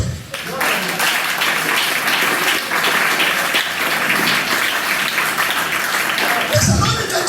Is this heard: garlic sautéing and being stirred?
no